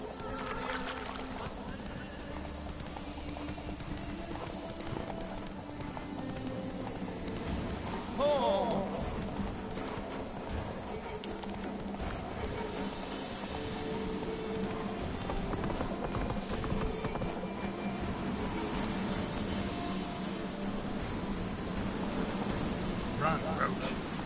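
Hoofbeats from Roach, a horse in The Witcher 3, clip-clop steadily at a gallop through the whole stretch, with a brief whinny near the middle, under game music and ambience while a voice talks intermittently.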